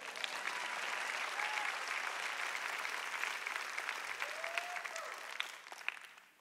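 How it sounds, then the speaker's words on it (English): A church congregation applauds during a sermon, a steady, fairly soft wash of many hands clapping that holds evenly for several seconds before tapering off at the end. "You can go ahead and clap."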